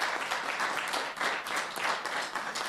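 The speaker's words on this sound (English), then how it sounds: "Let's give a round of applause for all our speakers." Audience applause fills a hall at the General Aviation Indaba 2024 conference in South Africa: dense, steady clapping from a sizable crowd, close and continuous for a few seconds with no talk over it.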